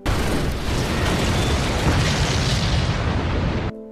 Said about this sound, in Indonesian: seseorang berusaha mengejar Profesor Huang, lalu akhirnya mobilnya meledak.